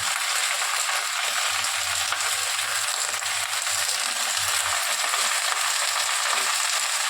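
Leafy greens fry in hot oil with a loud, continuous sizzle and crackle, close and steady with no voices.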